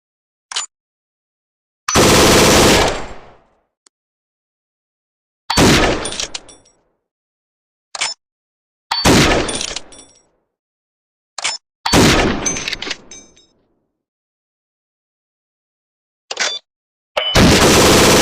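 An M4A1 5.56mm assault rifle fires in several loud, sharp bursts separated by silent pauses. The bursts vary from single shots to longer strings, with no talking.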